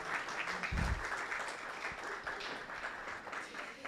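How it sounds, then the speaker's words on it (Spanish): Applause from the audience at an innovation panel event in Peru welcoming the host, fairly quiet and steady with a few louder claps early on, heard from a distance. "Otro aplauso para nuestra anfitriona."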